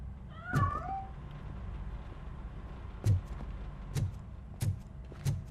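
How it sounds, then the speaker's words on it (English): A cat meows in the video game Robocop: Rogue City, a clear rising meow at the start followed by several shorter, lower mews spaced out over a steady background hum. "That cat must be hiding inside."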